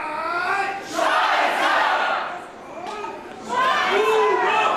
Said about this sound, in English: You can hear people in the crowd trying to engage in the same kind of verbal back and forth with Spalter